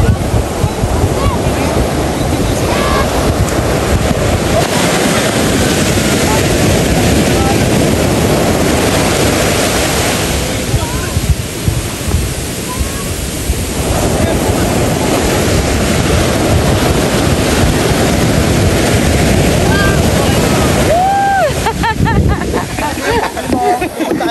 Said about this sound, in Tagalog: Lalaki po ng alon